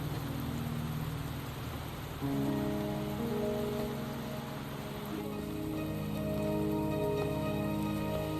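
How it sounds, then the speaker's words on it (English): Steady rain patters across surfaces in the video game Wuthering Waves, a constant dense hiss that runs unbroken throughout, with soft tonal music rising underneath partway through. "Are you trapped here by the rain?"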